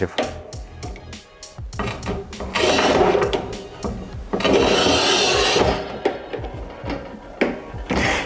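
Kristal Giga Cut 120 cm manual tile cutter scoring and snapping 9.5 mm porcelain tile: repeated scraping, rasping strokes with short knocks and a long gritty rub, fairly close and loud, with no talk over it.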